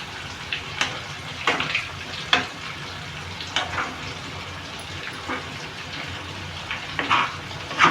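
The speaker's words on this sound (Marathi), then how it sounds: "फ्राय पण चांगलं झालं पाहिजे कच्चं नको निघायला चांगलं फ्राय होऊन काढायचं" Chicken pieces frying in a pan for a restaurant-style chicken dish, giving a steady sizzle with intermittent louder crackles and stirring clinks, close up and alone with no talking.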